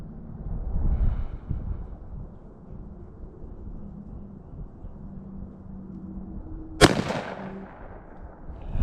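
A Stevens 301 .410 single-shot shotgun fires once at a 40-yard target outdoors: a single sharp, loud report late in the clip with a short echoing tail, preceded by quiet low rumble and faint background noise.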